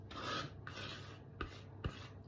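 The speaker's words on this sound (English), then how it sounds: "So I'll scrape round the edges." A spatula scrapes cake batter around the edges of a baking tray in slow, rasping strokes, close and quiet, with a few sharper knocks against the tray.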